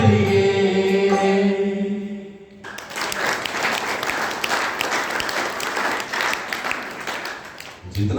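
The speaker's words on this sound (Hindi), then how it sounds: "जितना जोर लगा करके मैंने भजन गाया उतनी जोर से आप लोगों की तालियां निकलती हैं।" A sung Arya Samaj Vedic bhajan ends on a held note, then the gathered audience bursts into loud, sustained applause that continues unbroken to the end.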